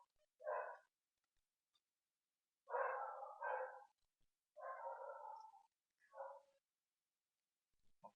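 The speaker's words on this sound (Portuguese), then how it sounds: "Se vocês ouvirem o meu cachorro latindo" A dog barks in short bursts, several separate barks spread over a few seconds with quiet gaps between, moderately distant and alone in a quiet room.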